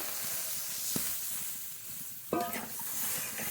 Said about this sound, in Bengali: কাঁচা লঙ্কা বাটা মশলা খুব ভালোভাবে কষিয়ে নিয়েছি এবার জল দিয়ে দেবো